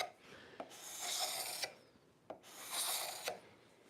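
A hand plane cuts figured wood in two long rasping strokes, each opening and closing with a sharp click of the blade, close and clear against a quiet room.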